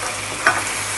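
Food being stirred in hot oil in a pan, a soft sizzling hiss with one brief scrape of the spoon, close and short.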